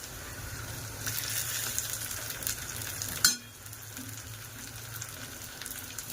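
Tomatoes go into a hot frying pan for a dried Bombay duck curry: a steady frying hiss, then a sharp splash-like burst after which the sizzle drops quieter and duller, heard up close without voices.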